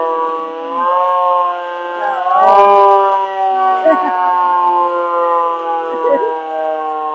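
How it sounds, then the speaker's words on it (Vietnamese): An alarm siren on an old vehicle at an antique market in Saigon wails as a loud, sustained, tonal howl that swells and dips slightly in pitch, with faint voices in the background. "còi báo động."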